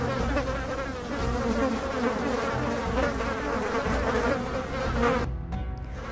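A dense swarm of flies buzzing loudly and steadily throughout, a thick continuous drone that drops out briefly near the end.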